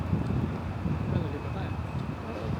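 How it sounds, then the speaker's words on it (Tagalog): Strong, cold wind roars steadily outdoors in Shanghai, China, buffeting the microphone with continuous low rumbling gusts for the whole stretch, with no voice over it. "Sobrang grabe yung hangin kasi."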